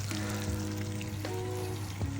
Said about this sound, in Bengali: মাছগুলি ভাজা হয়ে গেছে, ভালোই ভাজা হয়ে গেছে, ক্রিস্পি হয়ে গেছে